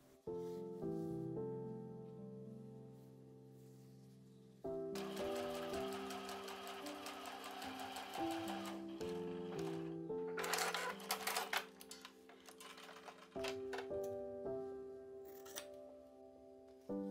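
A sewing machine stitches quilted fabric for a marché bag, a steady close whirring run of needle strokes that pauses, restarts and speeds up, with faint background music.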